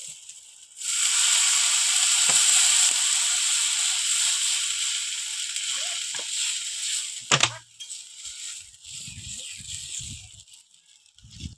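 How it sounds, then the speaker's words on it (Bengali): Water poured into a hot pan of duck egg curry with new potatoes bursts into a loud, broad hissing sizzle that slowly fades over several seconds, followed by faint clinks and soft stirring sounds. "এবার জল দিয়ে দেবো।"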